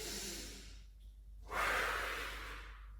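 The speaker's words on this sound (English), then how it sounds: "In through the nose, out through the mouth, and just one more each side." Breathing during a beginner-to-intermediate Pilates session: a soft inhale through the nose, a pause, then a longer, louder airy exhale through the mouth, close and alone.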